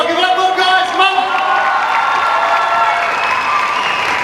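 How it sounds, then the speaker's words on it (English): Loud crowd applause and cheering for a Black Butler cosplay group on stage at a Sydney cosplay contest, with whoops and a ringing musical tone over the sustained clapping. "Give a great big round of applause for Black Butler Group."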